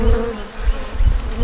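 Honeybees from a swarm colony buzz around a hive frame with brood and eggs, a steady close drone with low fluttering wingbeats rising and falling, no voices.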